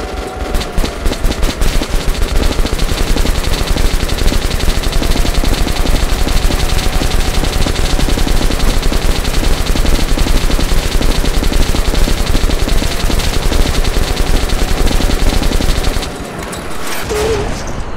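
Sustained automatic gunfire from weapons in the shooter Metro: Last Light, a loud, unbroken rattle of rapid shots that runs for many seconds, then cuts off abruptly near the end.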